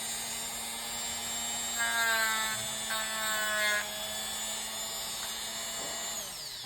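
A Dremel rotary tool with a grinding stone reshapes the tips of podiatry and cuticle nippers, a steady high whine with a couple of louder bursts as the stone bites the steel, close and alone.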